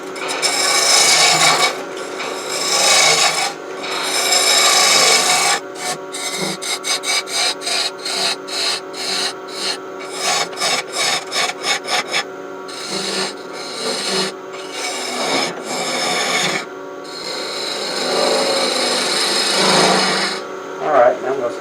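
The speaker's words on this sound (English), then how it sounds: "I'm just going to use the spindle roughing gouge to kind of hog out some wood." A spindle roughing gouge hogs wood off a large antique bedpost finial spinning on a wood lathe, giving a steady, close scraping rasp broken by a run of quick rhythmic cutting bursts.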